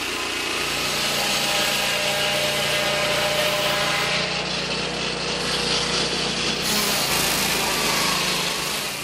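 A mobile saw cuts wood in a Cameroon community forest, its engine whining loud and steady throughout, with a brief easing of pitch midway before the cut resumes at full strain.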